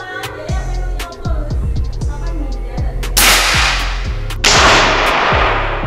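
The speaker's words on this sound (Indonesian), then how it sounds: "Kita coba tembakan yang pertama dari sebelah kanan." Sharp, loud unsuppressed air rifle shots crack nearby during a 40-meter accuracy test, two big reports standing out over a run of quicker, fainter impacts.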